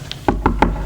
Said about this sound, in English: Knock again if you don't mind.